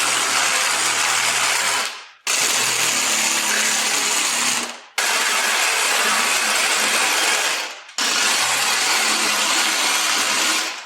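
An angle grinder works on the rim of an abandoned 1962 AMC Rambler in four loud, sustained bursts, each one cutting off abruptly and spinning down before the next starts.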